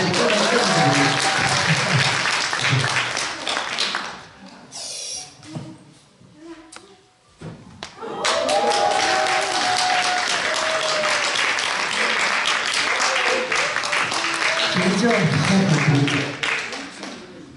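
Audience applause at a Korean seminar and award ceremony for certified master craftsmen, loud and dense with a brief lull midway before swelling again, with some voices mixed in.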